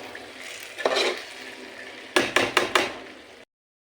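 Tomato paste and ketchup are stirred into spaghetti sauce in a pan, a scrape near the start followed by a quick run of four sharp spoon strokes against the pan over a low sizzle, ending abruptly.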